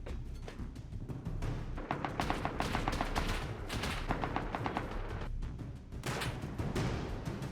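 Gunfire rattles through a snowy raid on a base in the survival game Rust, with repeated bursts and single shots, some sharp and near and others duller and farther off, layered over a constant rumbling background.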